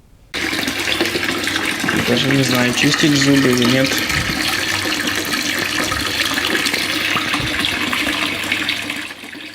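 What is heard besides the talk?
rusty water running from a tap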